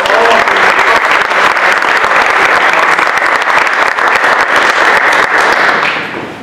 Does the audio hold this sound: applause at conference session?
yes